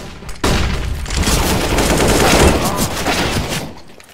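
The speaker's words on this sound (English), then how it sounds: "I'm throwing a flashbang!" A flashbang grenade goes off in Counter-Strike: Global Offensive, a sudden loud burst that gives way to several seconds of dense, harsh noise before fading.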